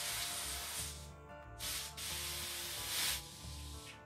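Air rushing out of a tubeless bicycle tire on a 2020 Capra, a continuous close hiss with a few brief surges and dips in strength over a few seconds.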